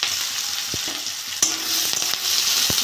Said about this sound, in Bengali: ভেজে দেবো পেঁয়াজটা।